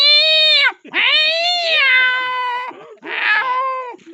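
A voice imitates two cats quarrelling over a mouse, producing loud, drawn-out yowling meows in three close bursts separated by brief pauses.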